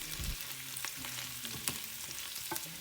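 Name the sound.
stirring fried sausages and potatoes with cumin in skillet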